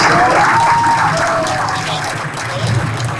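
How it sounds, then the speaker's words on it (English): An audience at a jersey retirement ceremony applauds steadily, a full, close crowd clapping throughout with some cheering in the room. "Give him another round of applause."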